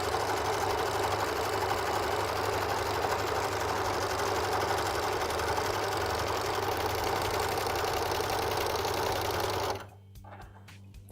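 An overlocker sewing machine stitches a one-centimetre fabric seam with a fast, steady mechanical whir that runs continuously and loud, then cuts off and leaves a few faint clicks.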